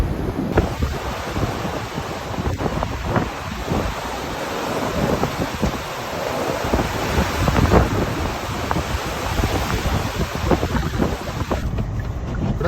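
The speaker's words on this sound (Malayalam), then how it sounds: "കാറ്റടിച്ചു തുടങ്ങി." A December blizzard in Ontario's Niagara Region during a snowstorm: loud, constant roaring wind buffets the microphone for the whole stretch, with heavy rumbling gusts and no voices.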